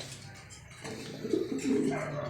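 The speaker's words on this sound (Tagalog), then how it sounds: "Boss Ruel, ito na yung ibon mong hiniram ko." Soft, low cooing of a dove or pigeon, close by, a few throaty murmurs rising toward the end over faint background noise.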